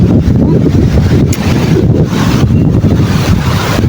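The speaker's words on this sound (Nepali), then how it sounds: "कति मिठो हावा हो" A strong breeze blows through the hills beside a clear stream. It produces loud, continuous gusty buffeting against the microphone, with a roar that swells and dips in waves and no talking.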